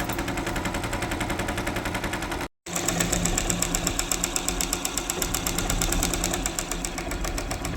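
A sewing machine stitching a narrow border on cloth, rapid rhythmic needle clatter close by, briefly cut off for a moment and then resuming just as fast, with no talking.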